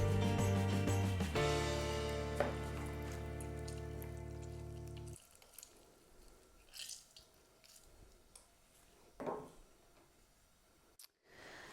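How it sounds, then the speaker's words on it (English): Limes are squeezed by hand into a jug while making lime cupcake filling: a burst of background music gives way to soft wet squishing, dripping and scraping sounds, close and quiet. "So I'm going to juice these guys up into a jug so I can measure it."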